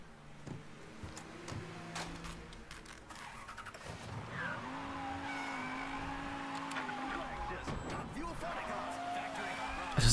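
Car driving in the video game Mafia 3, a steady engine drone with rising and falling pitch and some tire noise, heard under a person talking over it.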